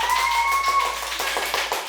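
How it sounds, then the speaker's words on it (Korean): Brief clapping from a small group on a show set, a couple of seconds of scattered hand claps over a faint sustained tone, fading out at the end. "이럴 때 박수 한번 주세요"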